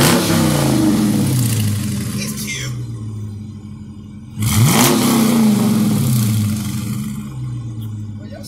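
A car engine with the mid muffler and resonator removed but stock tips revs hard twice, each loud, raspy climb falling back between pulls, with voices talking over it.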